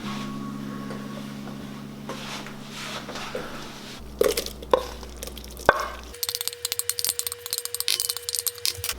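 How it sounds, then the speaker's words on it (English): Spoon stirring cooked crawfish filling for crawfish bread in a bowl, soft scraping and clinking that turns into a quick, steady run of light taps and rattles toward the end. "I'm gonna keep stirring it so it'll cool off faster"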